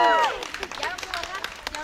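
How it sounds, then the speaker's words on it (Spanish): Audience applause at a graduation ceremony for a master's in teaching group at IDESA Navojoa: a burst of scattered, crisp handclaps rising right after a brief voice, continuing steadily at moderate loudness with a little crowd murmur beneath. "¡Fuerte el aplauso!"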